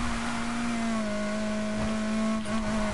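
A race car engine in Need for Speed Heat holds a steady, loud, droning hum at a constant pitch, with no clear revving or pitch swings, and nobody talking over it.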